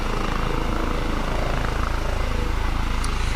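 A police helicopter flies overhead, its rotor producing a loud, rapid, steady chopping throb with a constant engine drone, close and unbroken throughout.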